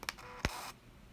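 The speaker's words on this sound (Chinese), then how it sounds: "闪灯跟这个快门都还可以动作" A Fuji FZ 3000 film camera fires: a couple of light mechanical clicks, then a sharp shutter snap as the built-in flash goes off, followed by a brief high electronic whine. Close and quiet, with no talking.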